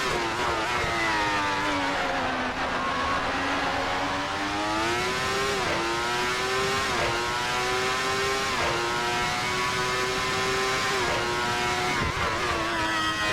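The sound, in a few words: ASR 412 T2 V12 race car engine, racing video game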